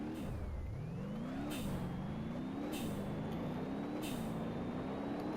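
A turbocharged car engine in BeamNG.drive drones steadily and climbs in pitch, dropping briefly at each gear shift with a hiss of turbo blow-off, about four shifts in a row.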